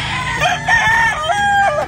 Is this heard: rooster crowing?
yes